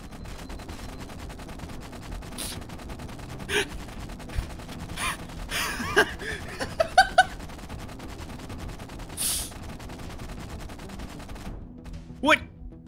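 Plasma pistol firing in the Halo 1 campaign: scattered sharp discharges and zaps spaced across the stretch, some clustered together, over a constant low game hum, with breathy vocal sounds.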